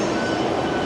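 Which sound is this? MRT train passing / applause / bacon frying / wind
MRT train passing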